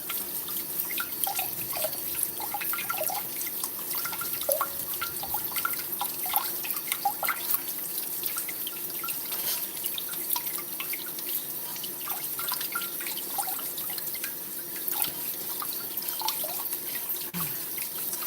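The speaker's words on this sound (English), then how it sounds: "Get a potato to scrub." Tap water runs steadily into a sink while a potato is scrubbed under it, with scattered drips and small knocks over an even rushing wash, fairly close and without talk.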